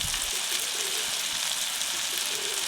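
Ginger, garlic and onion paste sizzles steadily in a pan for a mutton curry with potatoes, a soft continuous frying hiss with faint crackles throughout.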